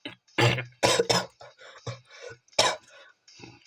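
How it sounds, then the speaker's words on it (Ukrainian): Several harsh coughs in quick succession, close and loud, followed by softer throat noises and breathy sounds. "Блін, кашель."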